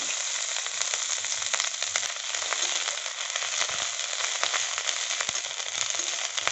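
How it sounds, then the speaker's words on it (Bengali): Onion paste frying in oil that was used to fry fish and tempered with nigella seeds, a steady hissing sizzle with crackling pops throughout. "পেঁয়াজটাকে একটু লাল লাল করে ভেজে নেব"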